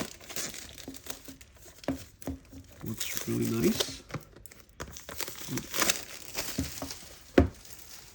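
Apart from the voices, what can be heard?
keyboard packaging crinkling during unboxing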